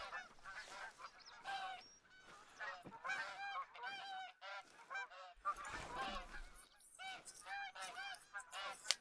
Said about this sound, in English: I don't know how far off they are, but I do hear quite a bit of honking